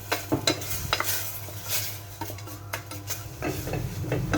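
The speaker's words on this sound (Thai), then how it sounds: "ผัดให้แห้งหนืดประมาณนี้ก็เป็นอันใช้ได้แล้วค่ะ" Young coconut strips are stir-fried with sugar in a pan, with repeated scraping and clanking of a utensil against the metal over a soft sizzle, close and uneven in rhythm.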